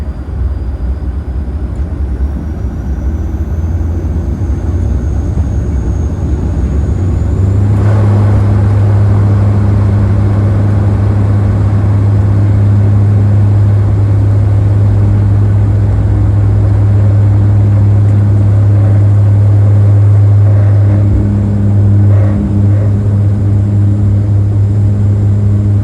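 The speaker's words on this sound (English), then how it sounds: "enjoy this speedy takeoff from Montreal off of runway 24 left" A WestJet airliner takes off from runway 24 left at Montreal, heard from the cabin as a loud, steady engine roar and low rumble that builds and holds throughout.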